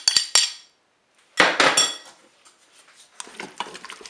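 A spoon clanks sharply against a Cookeo multicooker pot while a crème fraîche mixture is stirred into carrots and diced ham. A few loud metallic clinks come first, then a burst of clattering, then softer scraping and tapping.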